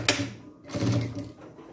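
A domestic sewing machine stitches fabric right sides together with a backstitch, heard as a close mechanical whir that starts with a sharp click and runs briefly and steadily without speech.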